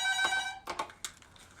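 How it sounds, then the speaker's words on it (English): A telephone rings in on a local radio call-in show on WVBF, giving a close, bright ringing burst followed by a few short rattling rings. "And we have a phone call here on WVBF."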